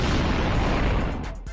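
Rocks burst in a rough, booming explosion during an animated fight, a loud dense blast filling the first second before tailing off, with a small thump near the end.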